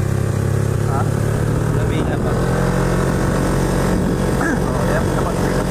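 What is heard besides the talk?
engine of nephew's modified racing motorcycle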